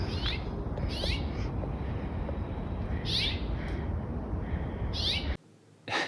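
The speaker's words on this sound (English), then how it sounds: "I think a barred owl is what we've been able to determine, flew into her head and attacked her" A barred owl that attacked a person outdoors gives repeated hooting, screeching calls in short bursts over steady outdoor background noise, several calls spaced a second or two apart, before a sudden drop to quiet and a final burst.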